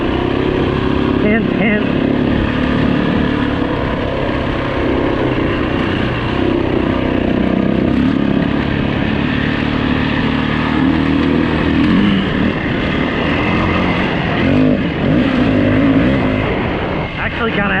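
A 2008 Yamaha WR450F dirt bike runs steadily and loud throughout, its engine droning and shifting pitch close by while someone talks over it.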